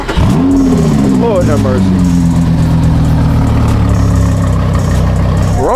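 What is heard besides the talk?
car with Nissan VQ engine revving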